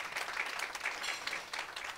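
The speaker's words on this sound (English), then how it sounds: "Please give her another round of applause" An audience applauds at a talk on sports and business with Coach Desiree Ellis, a soft, steady patter of many hands clapping, distant and fairly quiet throughout.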